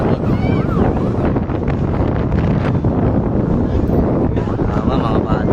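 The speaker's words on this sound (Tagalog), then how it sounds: "Sa lakas ng hangin." Strong wind roars steadily into the microphone near a residential fire in Tondo, Manila, a loud, unbroken rush that fills the whole stretch with faint voices beneath.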